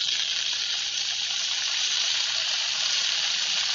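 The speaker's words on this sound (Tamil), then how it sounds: "தக்காளி நல்லா மசிஞ்சு வதங்கணும்" Onions and tomatoes sautéing in a pan for cauliflower masala, giving a constant even hiss of sizzling oil, close and unbroken, with no one talking.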